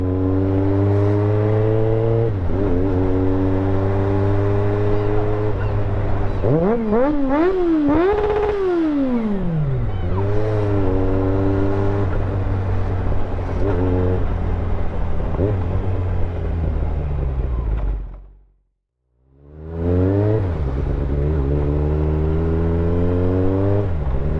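A motorcycle engine, pushed to around 12,000 RPM near top speed, drones loudly up close with harmonic whine, repeatedly rising and falling through gear changes and revs, then cutting out briefly before picking up again.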